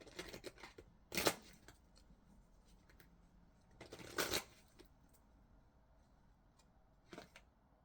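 Queen of the Moon Oracle cards being shuffled, with two sharp riffling bursts about three seconds apart, a last softer flutter near the end, and quiet handling rustles in between.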